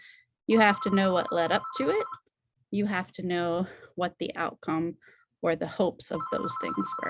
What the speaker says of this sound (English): that's a phone in the back I can't turn off